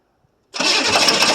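A 1982 Chevrolet Silverado K10 pickup with a 6.2 liter diesel, sitting for 23 years, cold starts after a brief silence, catching abruptly and settling into a loud, close, rough running clatter.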